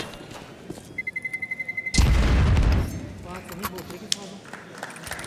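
In a Counter-Strike match, a fast series of beeps from the planted bomb gives way to a loud, rumbling explosion that swells and fades over about a second, with a commentator talking over the action.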